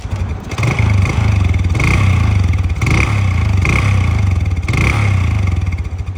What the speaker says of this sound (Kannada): ಫೇಮಸ್ ಗಾಡಿ ಅಂತಂದ್ರೆ ಕವಾಸಕಿ ಬಜಾಜ್ ಕ್ಯಾಲಿಬರ್.